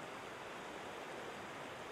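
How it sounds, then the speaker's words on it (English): A waterfall at Champlain Canal Lock 5 on the Hudson River, a steady, even rush of falling water heard alone and with no talk. "It's the waterfall."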